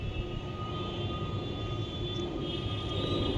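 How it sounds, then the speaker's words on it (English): An airplane passes overhead outdoors, a steady broad engine rumble and roar holding at a constant level throughout, with a faint tonal whine above the drone. "there is an airplane right there"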